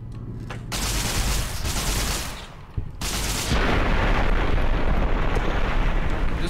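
A weapon firing in Fallout New Vegas, loud booming blasts that roll into long rumbling explosions, one brief break and then a sustained roar, with no voices.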